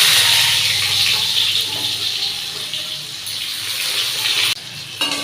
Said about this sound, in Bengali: এই যে রসুন আর আদা কুচিয়ে রেখেছি, এটা দিয়ে দেবো